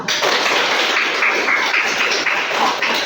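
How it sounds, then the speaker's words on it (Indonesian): Children in a classroom clap their hands together in a dense, steady burst of applause that carries close and loud for about three seconds without talk. "Tepuk tangan semua."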